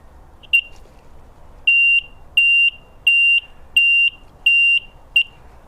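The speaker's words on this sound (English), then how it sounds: "And hopefully if I press that on there, I should hear a beep" A loud electronic turn signal bleeper on a Yamaha XJ900S motorcycle sounds in a steady rhythm, one short chirp followed by five longer even beeps, clear and close with no talking.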